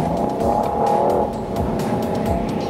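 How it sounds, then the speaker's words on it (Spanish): A Citroën C4 Cactus accelerating hard on a road test, its turbo engine giving a loud, steady rising roar close by, with no talk. "Vamos a probar ahora la aceleración."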